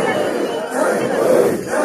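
Festival crowd arriving at the Aoleang Monyu Festival of the Konyak Naga tribe in Mon, a dense wash of many voices and shouts at steady, fairly loud level, swelling slightly partway through.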